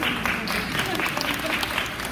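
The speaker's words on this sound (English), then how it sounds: "You guys deserve a round of applause." A school audience at a Meet the Teacher all-school meeting applauds a teacher; dense, steady clapping from many hands fills the room, with voices faintly mixed in underneath.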